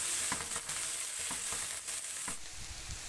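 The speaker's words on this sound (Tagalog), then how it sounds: "Ngayon naman ay mag-saute ng garlic o bawang, onions o sibuyas," Garlic, onions and celery sauté in a pan for chicken curry, a close steady sizzle with several quick stirring scrapes and clicks spread evenly through it.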